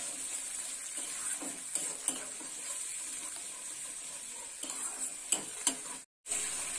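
A spice masala cooked with sour yogurt sizzles steadily in the pan while being sautéed, with scattered scraping and stirring knocks over the continuous hiss. No voices are heard.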